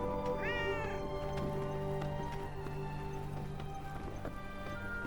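A cat meows once early on in the video game Forspoken, a short rising cry over a quiet ambient game backdrop with faint footstep-like clops.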